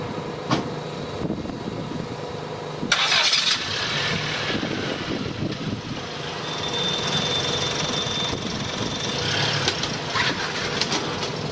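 The engine of a 1984-85 Toyota Vanwagon cranks and catches after a few clicks and thumps, then settles into a rough, steady idle with some mechanical clatter, close up and with no speech.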